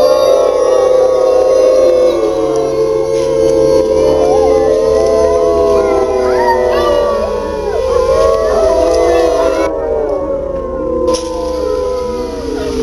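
Several voices howl together in long, overlapping, wavering wolf-like cries, loud and close, imitating a deep howl with sliding pitches throughout.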